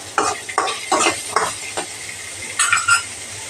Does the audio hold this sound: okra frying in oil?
yes